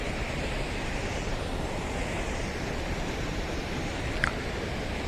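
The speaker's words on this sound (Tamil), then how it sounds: "கம்மியாக ஓப்பன் பண்ணுற தண்ணியே எப்படி வருது பார்த்தீங்களா?" Water pours through a partly opened gate of the Krishnagiri dam, a loud, unbroken roaring rush that fills the whole stretch with no voices.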